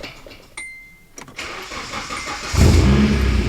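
A 2008 Nissan 350Z being started after sitting for months on its battery: a few clicks and a brief cranking whir, then the engine catches with a loud burst and settles into a rough, close idle.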